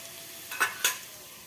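Potatoes frying in a pan for Bengali aloo chorchori give a faint, low hiss with two brief louder sizzling bursts, like the pieces being stirred or turned.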